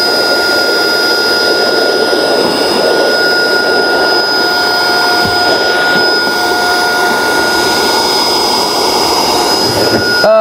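A Beluga handheld dust-cleaning device starts up and runs steadily, giving a loud, continuous whirring roar with a high whine that holds for the whole stretch, alone with no talk.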